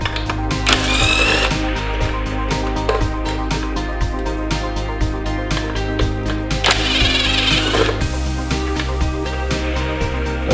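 Tool loosening 4mm Allen bolts on the fairing of a 2019 Kawasaki Z900 motorcycle, dense close-up clicking and ratcheting with a steady mechanical drone underneath, shifting in tone partway through.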